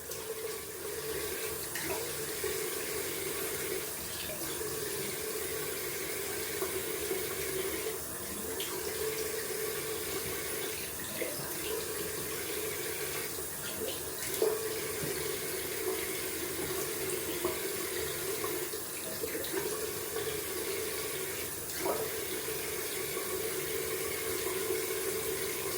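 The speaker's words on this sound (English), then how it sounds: "Going down for a cold water rinse" Steady stream of cold tap water running continuously into a sink for a rinse after a wet shave, a constant near splash with no talk over it.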